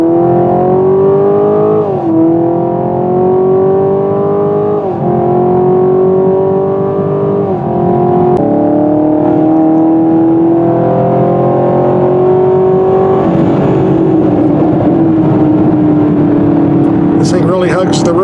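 A 2020 Chevrolet Camaro 2SS V8 in track mode accelerating hard, loud and close, its engine note climbing through several gear changes with brief dips between shifts, then settling into a steady, strong drone.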